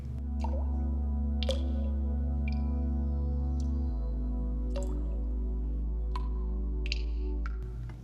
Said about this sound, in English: gentle water droplets fall from the ceiling, creating a calm, almost meditative sound